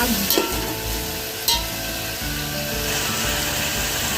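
Tomato frying in oil for a vegetable biryani: a constant close sizzle with a couple of sharp scrapes from stirring early on, over a low steady hum, with no one speaking.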